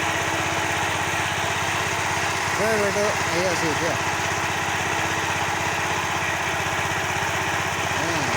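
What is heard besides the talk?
tractor engine running while ploughing a field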